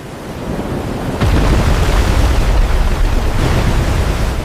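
Cartoon flood water rushing after a dam breaks: a loud, steady roaring wash of turbulent water and wind-like noise, surging stronger after a moment and continuing without pause, with no voices.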